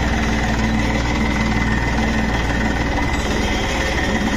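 An empty tractor stuck on a badly muddy track runs with a loud, continuous low engine drone and rumble, its throb changing slightly near the end.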